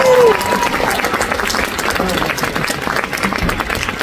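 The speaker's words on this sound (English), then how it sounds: "Give these people a big round of applause" An audience applauds the waiters, waitresses and bartenders, a dense, steady wash of many clapping hands filling the room, with a brief voice at the very start and talk faintly mixed in.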